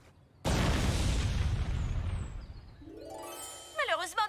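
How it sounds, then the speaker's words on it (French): An oxygen bottle explodes in a kids' game-show challenge: one sudden, loud boom with a rumbling roar that slowly fades, then voices start up near the end. "La bouteille d'oxygène explosera quand ils mordront dedans."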